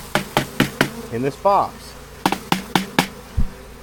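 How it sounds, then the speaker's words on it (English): Honeybees inside a hive box, a young queenless colony being combined with new bees, buzz in a close, wavering drone broken by sharp repeated taps and knocks, with a few brief spoken words. "We're going to combine the bees we got today to the bees"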